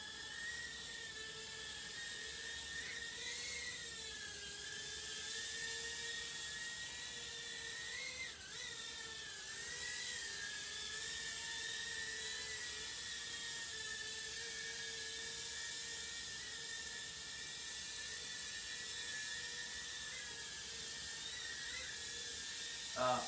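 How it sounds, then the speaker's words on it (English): A small, fast RC drone hovering and flying close by, a sustained high-pitched motor whine with slight pitch wobbles as it maneuvers, steady and loud throughout with no talking. "Honestly, I absolutely love this drone. It's fast, it's nimble, just a really fun flyer."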